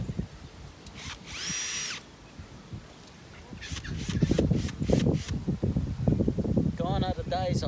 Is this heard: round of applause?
no